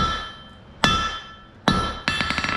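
Hot metal is hammered on an anvil, three sharp ringing blows spaced apart, the last followed by a quick run of lighter rebounding taps, each strike leaving a bright metallic ring that fades.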